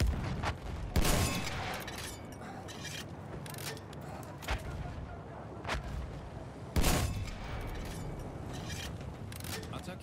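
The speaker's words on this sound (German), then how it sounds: "Da hat doch eben einer von oben geschossen." Gunfire in the Battlefield 1 multiplayer Rush game mode, with sharp shots at about one, four and seven seconds rising over a steady bed of battle noise and rumble.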